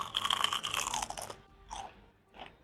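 A crunchy fried savory dough snack with a filling is bitten into with one loud, close crackling crunch, followed by two quieter chewing crunches.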